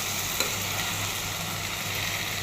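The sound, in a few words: ripe Malabar spinach seeds frying in a pan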